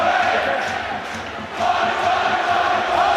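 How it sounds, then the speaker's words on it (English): A rugby league crowd roars, urging Warrington on against Bradford, a dense continuous swell of voices with a brief dip midway. "Crowd underneath us urging Warrington on."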